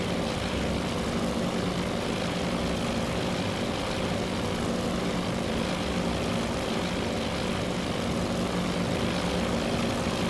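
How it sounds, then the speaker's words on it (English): B-17 bomber propeller engines in the video game Task Force Admiral, a steady, moderately faint droning hum with no breaks. "First B-17 I've seen this."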